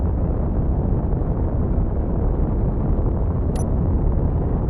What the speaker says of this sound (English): Retro rockets were firing